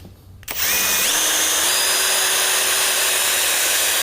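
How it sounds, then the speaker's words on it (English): Drilling into a shutter's top frame, a power drill spins up quickly after a quiet start and then holds a loud, continuous whine to the end. "And then I'll drill one through the top frame."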